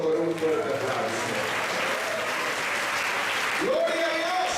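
Loud congregational applause fills a church service, dense and steady throughout, with cheering voices and a shout rising above it near the end.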